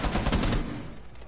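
Gunshots in the video game Rainbow Six, a rapid cluster of loud shots packed into the first half-second, then a decaying echo.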